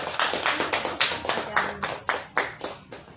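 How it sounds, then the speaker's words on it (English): A round of applause at a club meeting, a handful of people clapping in distinct sharp strikes, roughly a dozen separate claps in an uneven rhythm, close and clear. "Let's give a big round of applause"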